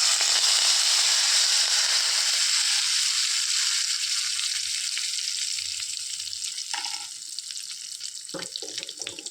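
Curry leaves crackle in hot oil while a sardine fry is made, a loud, dense sizzle that gradually quietens, followed by a few stirring knocks near the end with no talking.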